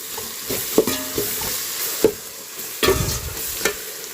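Fried onion masala with chilli and salt being stirred in a pan, with several distinct spoon scrapes and knocks over a steady low sizzle, close and fairly loud.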